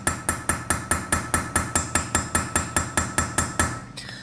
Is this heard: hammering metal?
yes